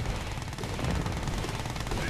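Continuous rattling Gatling gun fire from Soviet units in the strategy game Red Alert 2: Yuri's Revenge, a steady dense stream of shots filling the mix with no pauses.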